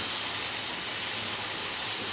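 Long-cut pointed gourd (potol) strips fry in oil with turmeric and salt, giving a steady, even sizzling hiss that holds for the whole stretch with no voices over it.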